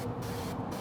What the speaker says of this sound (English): We're gonna hit the grates with a little bit of fat, using the spray duck fat today